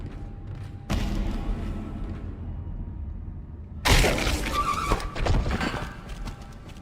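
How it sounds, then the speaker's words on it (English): In the sci-fi horror game Dead Space, a character's head strikes glass with a sudden loud thud and squeaky, shattering crunch, followed by rattling debris and eerie game ambience. "His head made the squeaky noise when he hit the glass."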